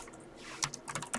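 Quick keystrokes on a computer keyboard, a short burst of crisp, close clicks in irregular rhythm after a quiet start, no voices.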